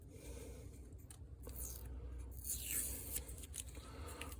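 A knife blade is drawn along a leather strop loaded with rouge to remove the burr after sharpening on a Lansky system. Soft, steady rubbing and scraping strokes repeat at close range, quiet and without talk.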